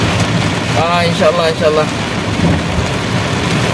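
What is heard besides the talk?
heavy rain and storm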